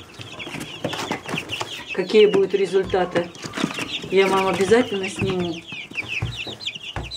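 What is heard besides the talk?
young chickens clucking, Breese Bar and Lohmann Brown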